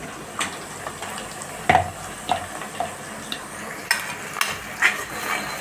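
Ground coconut masala fries in a pan, a soft sizzle under repeated scraping stirs and clinks of a spoon against metal, coming in irregular bursts.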